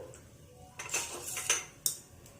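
A cooking pan set down on a stove with a few sharp metallic clinks and clatters, quiet and close in a home kitchen.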